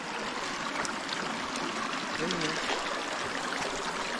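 A small stream at Mandala Falls in Antonio's Nature Park, Bulacan, flows with a steady broadband rush of water that stays close and even from start to finish, with no voices over it.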